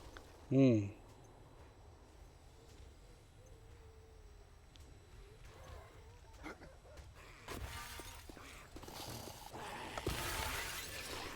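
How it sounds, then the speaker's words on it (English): Glass shatters once in the video game 7 Days to Die, a sharp brief crash near the start, followed by quieter in-game ambience with scattered thuds and rustling noises later on. "Sounds like some glass is shattering."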